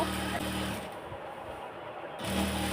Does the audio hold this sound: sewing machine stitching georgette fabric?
yes